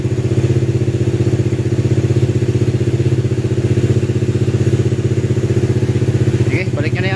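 A motorcycle engine idles steadily and evenly up close after a throttle body fix, a smooth, continuous rhythmic putter that stays loud throughout, with a brief voice near the end.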